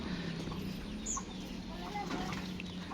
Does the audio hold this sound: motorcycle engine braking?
no